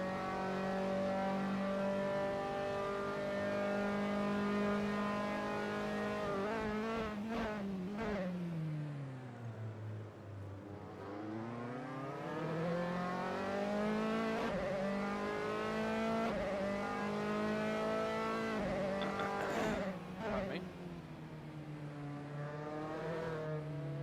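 Race cars in a racing video game at the Norisring street circuit, loud engines with continuous revving harmonics that dip and climb through gear changes and corners, filling the whole stretch with no talk.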